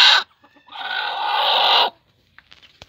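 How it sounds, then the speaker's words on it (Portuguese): A broody hen gives a short squawk, then a long drawn-out harsh cry, followed by a few faint soft clucks. "temos as galinhas que estão chocando"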